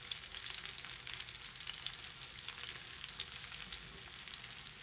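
Egg-coated fish fillet frying in cooking oil over low heat, a steady dense crackle and hiss that stays even and close throughout with no voices.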